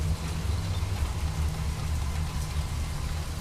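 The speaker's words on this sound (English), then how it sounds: "How about some rain? I feel it's going to rain like this for days." Rain falls steadily in a Halloween horror video game, a constant soft hiss of drops with a low rumbling wash underneath, even and moderately quiet throughout without any voices.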